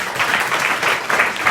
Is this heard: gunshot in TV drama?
no